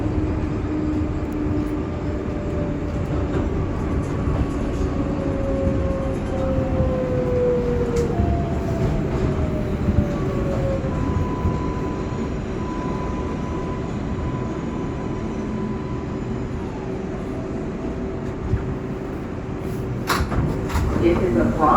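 An R142A 6 local subway train rolls Bronx-bound past 103rd Street toward 110th Street, a steady loud rumble of wheels and car with rising and falling motor whine, while an onboard announcement plays over it.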